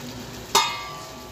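Chicken being sautéed in a pan over a high flame, with a low steady sizzle punctuated by one sharp clatter of stirring partway through.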